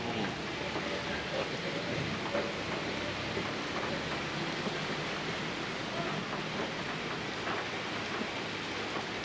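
Heavy typhoon rain during Typhoon Crising pours steadily over Sampaloc, Manila, a dense unbroken hiss of downpour with no voices over it.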